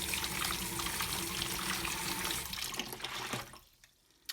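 Water running loudly from a tap to rinse out a Nespresso Aeroccino milk frother, a steady close gush that splashes and then cuts off abruptly near the end.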